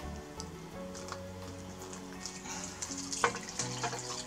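Boiling tea water being poured over paper for dyeing, giving a wet splashing, sizzling patter that swells and settles, close by, over faint steady tonal background music, without speech.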